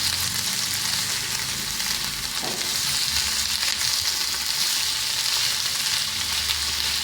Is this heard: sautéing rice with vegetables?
yes